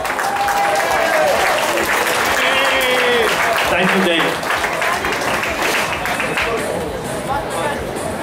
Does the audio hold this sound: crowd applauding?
yes